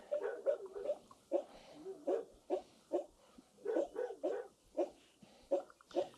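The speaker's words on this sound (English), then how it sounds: "Peter, what a nice dog." A pet dog named Peter, met in a store, lets out a string of short whimpering yips and barks in an irregular rhythm, close and fairly clear, with no talking over them.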